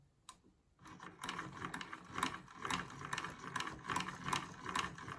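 Essex Miniature hand-crank sewing machine stitching as the handle is turned: a steady run of close, rhythmic mechanical clicks and ticks over a low rattling whir, starting after a brief quiet pause.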